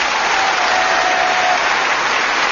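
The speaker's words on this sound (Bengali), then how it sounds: "একটা হাততালি।" Studio audience at a game show breaks into steady, loud applause that fills the whole stretch without pause, a dense wash of clapping with no talk over it.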